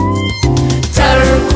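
Loud cat meows sound over a sustained musical backing in a children's song, repeated drawn-out mews close and prominent across the whole moment.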